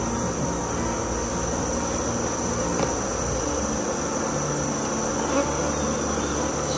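Dense, continuous buzzing of many honey bees around an open hive during fall feeding, close and loud, steady throughout with no voices.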